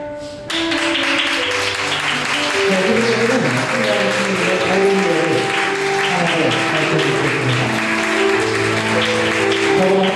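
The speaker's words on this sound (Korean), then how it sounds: "여러분들 따뜻 박수가 필요합니다" Wedding guests in a wedding hall clap warmly as the mothers of the bride and groom make their entrance, steady applause running throughout beneath music with sustained melodic tones.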